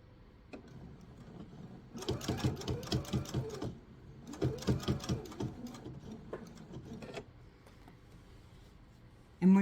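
A sewing machine stitches down a laptop sleeve in two bursts of rapid, even needle clatter, each about one and a half seconds long, with quiet pauses between them and a sharp click at the end.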